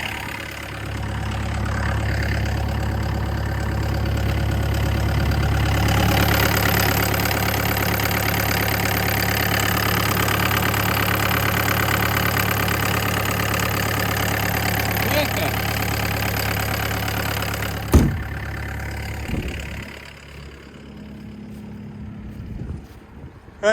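A vehicle engine cranks, catches and settles into a steady, loud idle that runs for many seconds. Wind buffets the microphone, and a sharp knock near the end briefly cuts through the drone.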